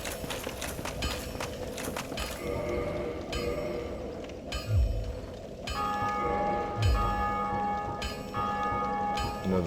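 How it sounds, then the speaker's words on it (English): A bell rings repeatedly in Dark Souls Remastered: clear metallic strikes roughly every second or so, each ringing on over a steady game ambience, with no talking. "Another bell."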